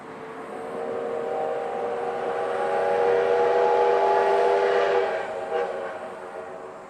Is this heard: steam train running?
yes